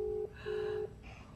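A phone call rings out on the line, two steady electronic tones heard back to back, faint and close, with no voices.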